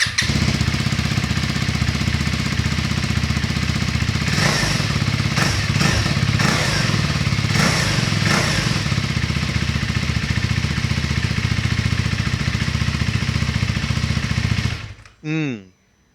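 A KTM Adventure 390 motorcycle engine with a barrel exhaust runs steadily with a deep, throaty exhaust rumble, loud and close, with a few brief revs, then cuts off near the end.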